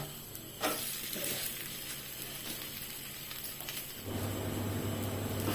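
Banana flower roti frying in oil on a pan, with a steady, close hiss of sizzling that grows louder near the end, with no talking.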